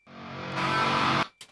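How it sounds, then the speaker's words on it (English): A single reversed guitar note swells from near silence and grows louder and more distorted, then cuts off abruptly, with a brief short tail right after, all in a metalcore production. "And then we need to add like a reverse guitar right here."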